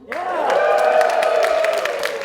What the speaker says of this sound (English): give me a cheer if you are a regular at Beantown